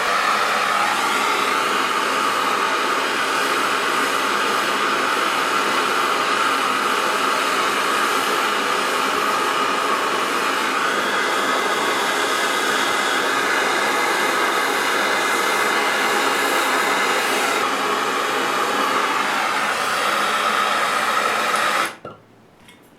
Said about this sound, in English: So I'm going to bring back my torch, light it, and I'll just focus the heat just on the ends of the rays.